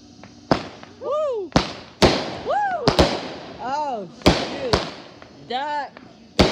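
A July 4th fireworks show sends loud, sharp booms at irregular intervals, about seven in all, while people nearby cheer and exclaim between the blasts.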